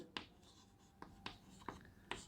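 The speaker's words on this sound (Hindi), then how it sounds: "तो सीधा लिखेंगे" A pen writes an answer by hand on paper, giving five short scratchy strokes in an uneven rhythm, close and quiet with no talking.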